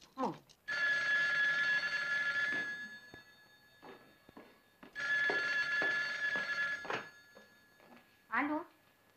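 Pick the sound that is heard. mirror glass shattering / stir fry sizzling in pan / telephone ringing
telephone ringing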